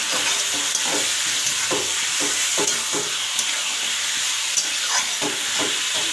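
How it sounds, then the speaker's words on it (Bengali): Chicken being stir-fried in a pan for a curry-leaf chicken dish: a steady, close sizzle with repeated scraping stir strokes, and no talk. "চিকেনটা দিয়ে আমি এটাকে ভালো করে ভাজা ভাজা করে নেবো"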